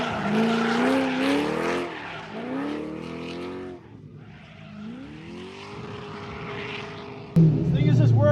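A widebody Corvette on a race track sweeps through gear changes, its engine note rising and falling in repeated pulls and easing back, with people talking over it before a sudden louder burst near the end.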